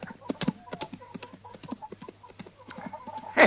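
Horse hooves galloping in a Western setting, a quick irregular clip-clop of hoofbeats with a louder thump near the end, heard alone at moderate level.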